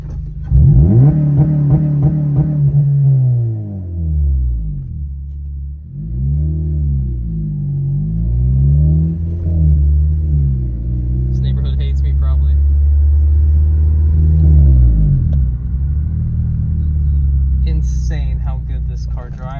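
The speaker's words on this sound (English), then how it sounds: "Hear the launch control at least a little better." A Honda Civic Si, 9th generation, revs its engine on launch control, the rumbling engine rising and falling in repeated surges up close while people talk over it.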